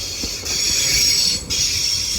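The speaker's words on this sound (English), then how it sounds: "And at the rear is my favourite train of all time, 195126." Passenger train 195126 rolls through Manchester Piccadilly station close by, its wheels squealing with a high, continuous metallic whine over a low rumble.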